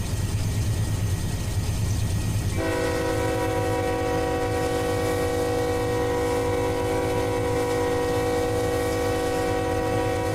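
Heavy coal train in a rail simulator, two locomotives hauling 85 cars, rumbles steadily with low engine drone; partway through a sustained multi-tone horn-like chord starts and keeps sounding over the rolling rumble.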